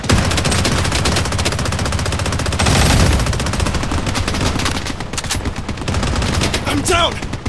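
Rapid automatic gunfire in the mobile shooter Blood Strike, dense continuous bursts up close with shots layered over one another, and a short voice callout near the end.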